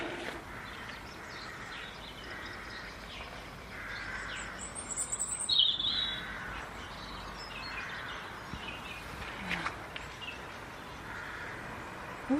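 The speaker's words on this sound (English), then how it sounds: "Listen to the birds." Birds chirp and call faintly at dusk under a bright moon, with scattered tweets over steady outdoor background noise and no talking.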